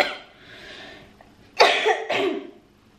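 Two sharp coughs from a person with a cold and itchy nose, close to the microphone, following a few seconds of quiet breathing.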